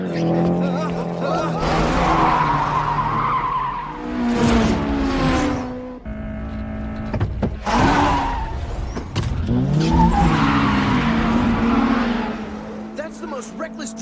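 Anime race cars in a downhill mountain battle screech through tight corners, tires squealing and engines wailing in loud bursts, with voices talking over parts of it.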